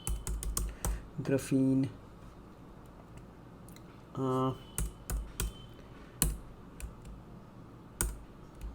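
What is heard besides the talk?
typing Python code on a computer keyboard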